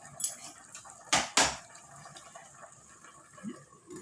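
Spoon stirring paksiw with eggplant in a cooking pot, a few sharp metallic scrapes and clinks against the pot amid quiet liquid sloshing, fairly close and without talk.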